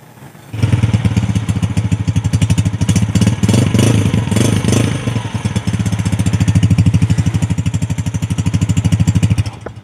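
A used 2006 Honda 125 motorcycle engine runs steadily close by, a loud, even, rapid single-cylinder putter with a fast rhythmic beat and brief revs, heard alone for about nine seconds.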